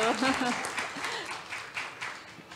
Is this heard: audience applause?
yes